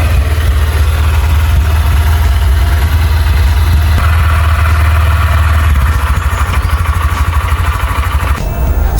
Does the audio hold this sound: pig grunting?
no